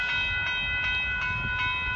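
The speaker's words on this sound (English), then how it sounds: "I see the Amtrak." Amtrak Texas Eagle 21 passenger train passing near a road in south Austin, Texas, a loud steady rumble with bright sustained tones and faint rhythmic clacks, close by and without any talk.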